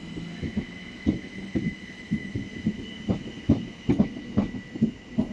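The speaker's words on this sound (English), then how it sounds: "Goes pulling in now, it's going to be the 1755 SouthEastern service" A Southeastern passenger train pulling into St Leonards Warrior Square station in Kent, with rhythmic clicking and thumping of wheels over rail joints and a steady whine from the train, moderately close and heard alone.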